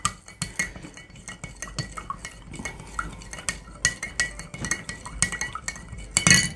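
A spoon stirs Atomy hand soap solution mixed with salt in a container, giving quick, irregular clinks and scrapes against the sides, close and moderately loud, with no talking.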